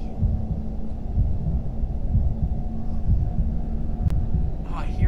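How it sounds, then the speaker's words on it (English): A low, throbbing heartbeat from an enemy in Bendy and the Ink Machine, steady muffled pulses under a constant dark hum, with brief faint chirps near the end. "Oh, I hear his heartbeat through my like right ear."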